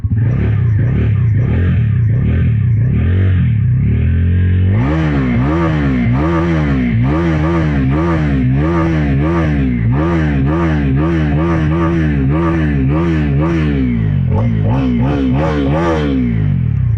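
A Bajaj Pulsar NS400Z motorcycle engine idles with a deep, bassy burble, then is blipped through repeated sharp throttle revs that rise and fall in quick succession, loud and close, with no talking.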